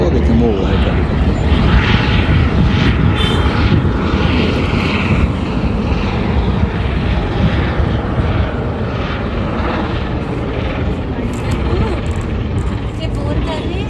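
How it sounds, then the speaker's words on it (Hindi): A helicopter flies over Palm Jumeirah in Dubai, a loud continuous engine and rotor drone that holds steady throughout, with outdoor background noise. "यहाँ यहाँ पे हेलीकॉप्टर्स देख लें, बहुत उड़ते हैं हेलीकॉप्टर्स, बहुत ही ज़्यादा।"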